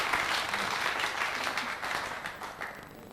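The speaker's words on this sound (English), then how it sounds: "That one got some applause." Spectators at the 1996 WEPF World Pool Championship applaud a tremendous pot, a burst of clapping that starts full and gradually thins out over a few seconds.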